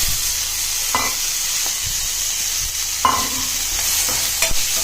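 Pinto beans with onion, dried red chilli, asafoetida and curry leaves sautéing in a pan, a steady close sizzle with scraping stirs at regular intervals and no voices.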